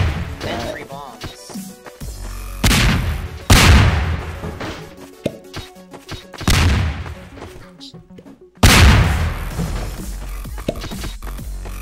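Repeated loud booms and crashes from bombs exploding in the Garry's Mod game Melon Bomber, several heavy blasts spaced a few seconds apart with clattering debris between, while players talk over them.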